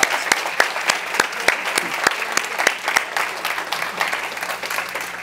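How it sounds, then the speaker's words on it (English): An audience applauds five competitors at a university three-minute thesis competition, with crisp individual claps up close over a steady wash of clapping from the rest of the crowd. "let's give these 5 a round of applause"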